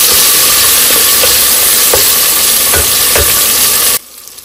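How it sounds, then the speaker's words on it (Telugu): Chopped onions fry in hot oil with mustard and cumin seeds for an Andhra-style dalcha, a loud, dense, continuous sizzle with occasional stirring knocks, close up, cutting off abruptly near the end. "ఉల్లిపాయలు కొద్దిగా ఫ్రై అయితే చాలు"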